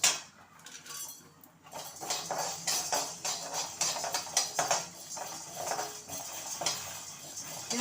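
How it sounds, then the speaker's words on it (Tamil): Chana dal (Bengal gram) is dry-roasted in a pan for chutney, with continuous scraping and rattling of the lentils against the metal as a spatula stirs, plus a few sharper clinks, nearby and with no talking. "கடலைப்பருப்பை நம்ம வறுத்துக்கலாம்"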